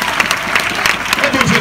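A church congregation applauds in praise, a dense patter of many hands clapping close by, mixed with voices from the crowd.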